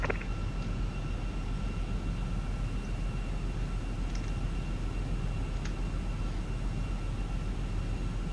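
Steady, broadband engine and airflow hum of an airliner on final approach to runway 27 left in the X-Plane 11 flight simulator, continuous and even with a few faint tonal beeps.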